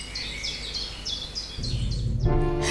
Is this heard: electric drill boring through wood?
no